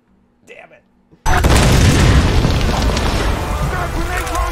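A grenade launcher blast in the Tomb Raider video game follows a brief murmur, erupting into one loud, close boom with a long, roaring rumble that trails off slowly.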